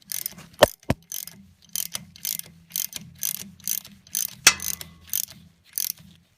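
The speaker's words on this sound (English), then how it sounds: "Go ahead and put your top bolt in. Get it ran in." Ratchet wrench clicking as it runs in the top mounting bolt of a 6-volt generator on a Ford tractor, in a steady series of short crisp bursts of clicks, close and alone, with a couple of sharper knocks.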